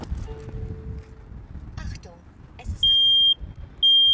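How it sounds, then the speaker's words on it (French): A high-pitched electronic Nest Protect smoke alarm beeps in two sustained bursts near the end, following scattered clicks and background chatter. "Ce qu'on entend, c'est l'alarme fumée."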